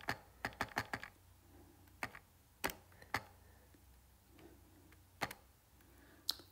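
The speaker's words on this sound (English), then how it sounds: "I'm trying to type it here in my calculator." A calculator is keyed in quickly, with a burst of sharp, close plastic button taps, then scattered single presses separated by pauses in a quiet room.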